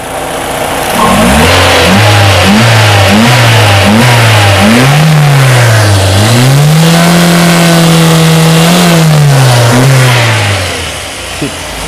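A car engine is revved repeatedly in short, loud blips that climb and drop, then held at a higher pitch before settling back toward idle, heard close up.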